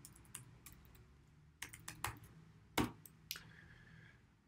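JSX code typed on a computer keyboard, quiet scattered key clicks in irregular bursts, a few sharper taps standing out over a low room hum.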